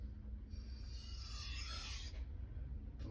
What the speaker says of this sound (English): Let that grit grind that burr off for you.